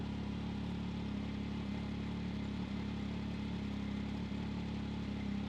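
A Can-Am Maverick X3 XRS side-by-side engine idles steadily and close, a constant low droning hum with no revving, heard alone.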